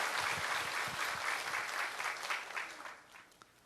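A church congregation applauds during a Sunday service, a dense, fairly soft round of clapping that swells briefly and then tapers off near the end.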